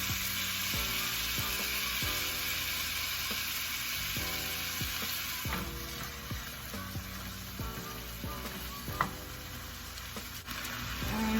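Vegetables sizzle steadily in a frying pan for Dominican beef empanadas, a close, continuous hiss broken by repeated stirring scrapes and a few clinks.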